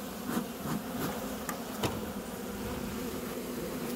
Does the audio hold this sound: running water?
no